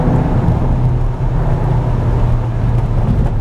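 A VW Arteon R Shooting Brake with all-wheel drive is pushed hard around a tight, gnarly circuit, its engine a steady loud drone with strong low-end rumble that holds without a break.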